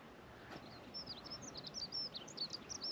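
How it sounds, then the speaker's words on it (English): Small birds twitter and chirp in quick, high bursts against a quiet hilltop hush on the Great Ridge near Mam Tor, faint and some distance away. "you can hear birds twittering and sheep baaing."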